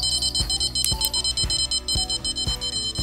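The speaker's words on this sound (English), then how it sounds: "that alarm, that bottom rod down there hasn't gone off" In the video game Fishing Planet, a rod's electronic bite alarm beeps in a fast, regular series of high, tinny tones, about two per second, loud and close throughout.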